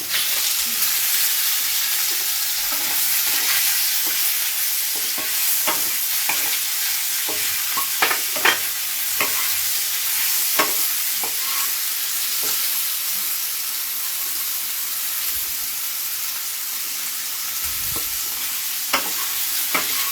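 Paneer pieces frying in a pan with a steady, loud sizzle throughout, broken by occasional scraping stirs and small pops, close up with no talking.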